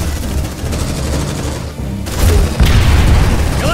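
Grenade blast and combat din in the squad tactics game Aliens: Dark Descent, a loud booming burst amid steady rumbling gunfire and noisy battle clutter.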